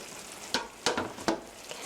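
Mapo tofu with chopped Welsh onion, green onion, green pepper and chilies, gently stirred in a simmering pan, with four soft scraping strokes over a low bubbling sizzle.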